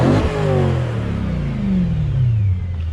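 A BMW M3 engine with Dinan parts revs hard and then winds down, its growling pitch sliding lower, loud and close with no talking.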